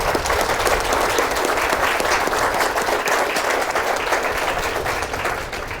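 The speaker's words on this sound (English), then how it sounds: "please join me with a handshake and applause for these" A crowd applauds at an apartment groundbreaking ceremony, dense sustained clapping close by that holds steady for several seconds before easing slightly at the end.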